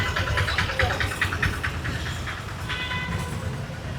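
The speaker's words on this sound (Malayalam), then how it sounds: "ട്രെയിനിലാണ് യാത്ര" A train runs while passengers travel aboard, giving a continuous rumbling clatter with brighter metallic rattles, steady and close, and voices faintly murmuring beneath it.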